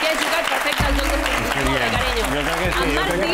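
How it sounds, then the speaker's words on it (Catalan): Studio audience applause on a Catalan TV show, a steady burst of clapping with voices and musical tones overlapping it. "un aplaudiment per en Marc"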